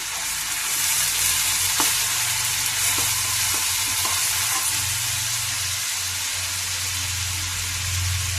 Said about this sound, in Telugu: ఇదిగోండి పచ్చిమిర్చి కూడా వేసుకుందాము.